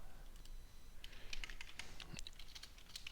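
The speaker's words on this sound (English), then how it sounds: "I should stop typing now." Rapid typing on a computer keyboard while writing code, a steady run of light, close clicks and key taps with no talking.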